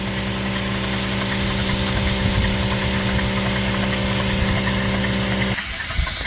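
A Dake square piston steam engine runs on compressed air with a steady, rapid mechanical chuff and hum, close and loud throughout, changing character briefly near the end.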